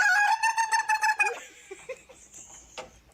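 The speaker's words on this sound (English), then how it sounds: "oh my god, a chicken." A chicken gives a run of rapid, loud clucks and squawks, then trails off into scattered softer calls, alone without talk.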